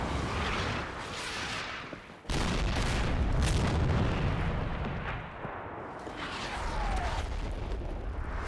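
Shells land in the woods in Combat Mission: Cold War: a dense run of booming artillery impacts and blasts, loud and rumbling, one cluster after another with almost no pause.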